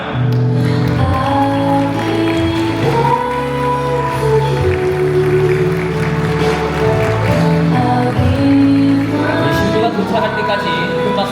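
Applause from wedding guests as the bride enters, a steady continuous clatter of clapping heard close, mixed with music in the hall and lasting the whole stretch.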